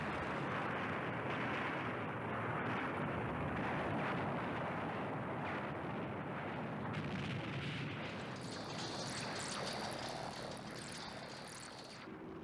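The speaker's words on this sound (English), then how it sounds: "やった、テスラ艦が爆発したぞ。" An enemy spaceship explodes in the 1974 anime Space Battleship Yamato, a loud sustained roaring blast that rumbles steadily for over ten seconds and slowly fades at the end.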